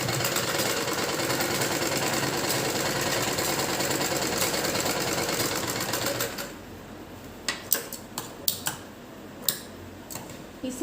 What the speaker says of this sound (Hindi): यहाँ हम सिलाई लगाएंगे, आधा इंच का दबाव देंगे।